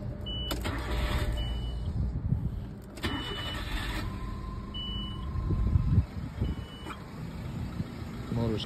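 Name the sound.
1992 Nissan Pulsar engine running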